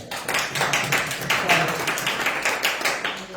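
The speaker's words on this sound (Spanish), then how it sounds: "Un aplauso para él." Audience at a talk on the neuroscience of meditation claps, a brief run of rhythmic, fairly loud handclaps over a roomy background.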